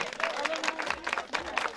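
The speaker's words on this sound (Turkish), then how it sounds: "Güzel bir alkış." Applause from wedding guests, a steady patter of clapping with voices mixed in underneath.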